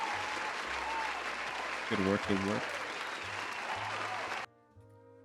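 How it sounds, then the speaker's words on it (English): Steady applause fills a livestreamed illustration portfolio review, with a brief voice speaking over it midway; the clapping then cuts off abruptly, leaving faint low hum. "Claps all around once again."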